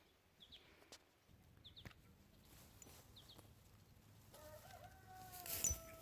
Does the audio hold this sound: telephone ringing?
no